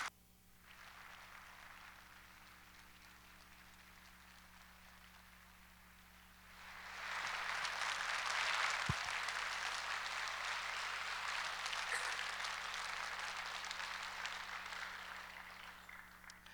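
A church congregation claps to welcome the visiting pastor, a broad wash of applause that swells up after about seven seconds and holds steady, moderately loud, following a quieter stretch of room hum.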